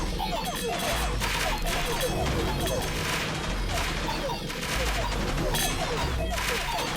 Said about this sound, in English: It's a machine gun that fires money.